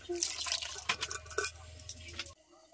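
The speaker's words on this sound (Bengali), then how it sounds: "এই ডাল আর জল একসঙ্গে আমি দিয়ে দিচ্ছি।" Cooked chana dal and its water, boiled in a pressure cooker, are poured into a cooking pot, giving a close, splashing, dripping liquid sound with a few sharper splashes before it cuts off abruptly.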